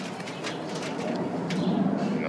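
Young and old tippler pigeons coo in a loft, a low soft continuous cooing under rustling and background noise.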